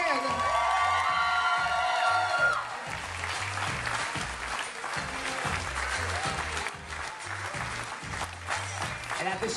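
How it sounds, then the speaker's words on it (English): Wedding guests in a tent clap loudly and steadily, with scattered cheers and whoops, over a thumping dance-music beat that keeps going under the applause. "And let's keep your applause going if you think Aaron is the most beautiful woman in the tent"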